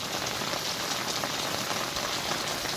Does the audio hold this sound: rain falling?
yes